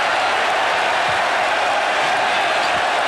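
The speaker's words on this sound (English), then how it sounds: "LSU crowd giving him a little razzing right now for those air balls" Basketball arena crowd at LSU, 1986, razzing a Kentucky player after air balls, a steady broad roar of jeers and crowd noise that stays loud and continuous throughout.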